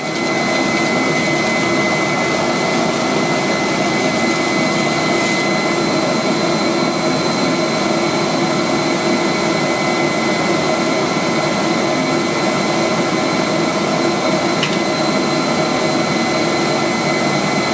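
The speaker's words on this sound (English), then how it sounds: "Get that buffer to really scratch that floor." Floor buffer machine scrubbing a floor, a loud continuous motor roar with steady broadband whoosh that runs unbroken throughout, close and alone without speech.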